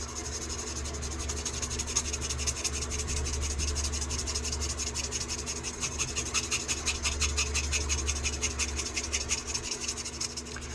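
Fine 1000 to 1200 grit sandpaper rubs back and forth over a surface in a steady, close, continuous rasp with a quick even rhythm, heard alone.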